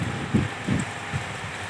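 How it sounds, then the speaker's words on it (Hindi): Heavy rain with strong, cool wind on a stormy night in Sialkot makes a steady broadband hiss, and low gusts swell and fade a few times underneath. "बहुत तेज़ बारिश हो रही है"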